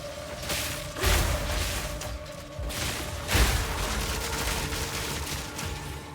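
Grenade blasts in the action RPG Path of Exile 2, two heavy booms around the one- and three-second marks over a steady bed of dense game combat noise and crackling effects.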